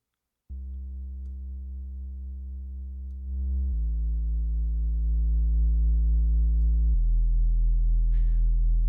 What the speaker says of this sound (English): the sub bass sounds like this.